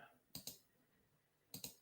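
A computer mouse clicked twice, then twice again after a pause, with crisp, close, faint clicks over a quiet background.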